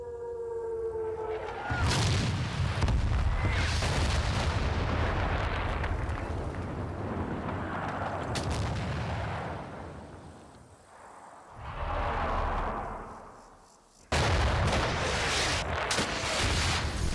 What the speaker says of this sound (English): So I call in a short artillery barrage on one of the remaining tanks